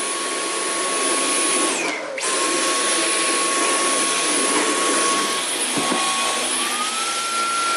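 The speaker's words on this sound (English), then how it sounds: "I'm going to demonstrate how it goes between my carpet" A Dyson V11 Animal cordless vacuum running on auto mode gives a steady, loud high-pitched whine that dips briefly as suction drops on a rubber mat, then climbs back up for the carpet.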